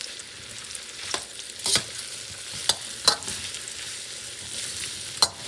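Baby carrots and broccoli stir-frying in a pan for a Thai vegetable stir fry, a steady quiet sizzle broken by a few sharp scrapes and clacks of stirring, close and without talk.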